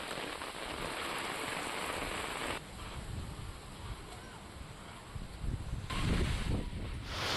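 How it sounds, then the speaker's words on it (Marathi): Heavy unseasonal rain during a storm with strong winds over farmland, a steady broadband downpour hiss with wind buffeting, fairly continuous throughout with a brief dip in intensity midway. "1 तास मुसळधार पावसानं अक्षरशः झोडपून काढलंय"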